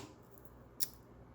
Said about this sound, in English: we're going to take our scissors and we are going to clip the excess thread